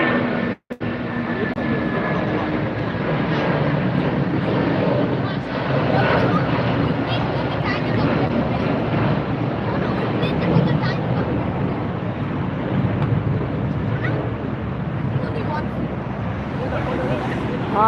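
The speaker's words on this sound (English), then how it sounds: "Here's another departure." An airliner departs LAX, its engines giving a steady broadband roar that holds throughout with little change, a brief dropout near the start, and faint voices underneath.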